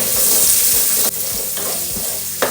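Carrot, capsicum and onion with curry leaves hit a hot pan and sizzle loudly and steadily, with stirring scrapes and a couple of sharp clatters, no voices.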